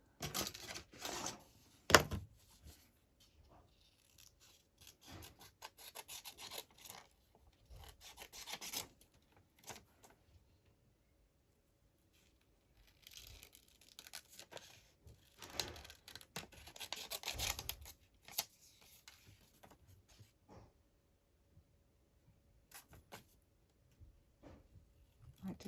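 Paper being cut for library card pockets, scissor snips and rustling rubs coming in scattered bursts with quiet gaps between, close and soft.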